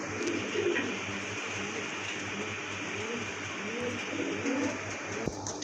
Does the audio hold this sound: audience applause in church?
no